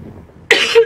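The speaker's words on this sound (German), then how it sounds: "Nur, dass ihr Bescheid wisst, warum ich manchmal husten muss." A single sharp cough bursts out after a near-silent pause, loud and close, with a rough tail lasting under half a second.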